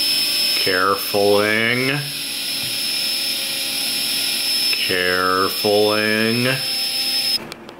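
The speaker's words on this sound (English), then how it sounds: "if you're trying to do something like this and you need your drill to move really slow, just make sure the battery's mostly dead" A cordless drill running slowly on a nearly dead battery gives two separate whirring bursts whose pitch climbs unevenly, each about a second long, with a faint steady hum between them.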